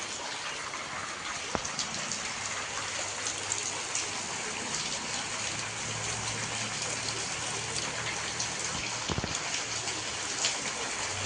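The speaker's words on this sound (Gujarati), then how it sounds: "તો પણ હજી વરસાદ શરૂ છે. વરસાદ રહેતો જ નથી ભાઈ." Steady, dense rain pours down outdoors in monsoon weather, a continuous even hiss with heavier splashing and no voices, heard through an open shutter.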